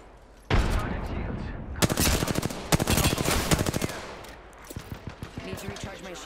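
Rapid bursts of gunfire from a shooter video game arena match, loud and close, with dense runs of shots, a brief pause, then scattered single reports.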